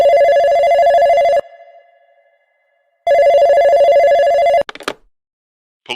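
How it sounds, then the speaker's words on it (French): A telephone rings loudly in two long electronic bursts with a pause between them, followed by a short click and a faint rattle as it is picked up. "Le téléphone sonne."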